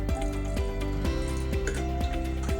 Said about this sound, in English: I'm going to put a splash of water in there,